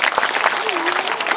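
Schoolchildren at a government school burst into brief clapping, a quick patter of many small hands with a voice faintly audible underneath.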